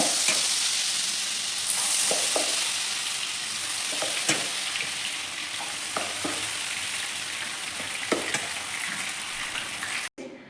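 Mushroom kebab pieces fry in hot oil with a steady, close, loud sizzle, broken now and then by short scrapes and clinks of stirring.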